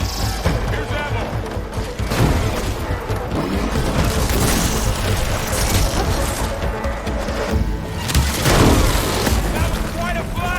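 Explosions from the video game Horizon Forbidden West, heavy booms and crashing bursts in a dense battle mix, loud and repeated across the stretch, with a voice talking over them.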